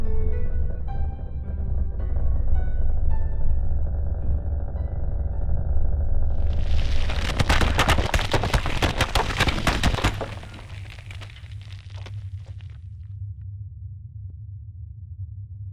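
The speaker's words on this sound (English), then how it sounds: "we see the floor collapse" In the video game Omori, over a low droning tone, a floor suddenly collapses in a loud crash of breaking and crumbling debris that rumbles for a few seconds, then fades to a dark hum.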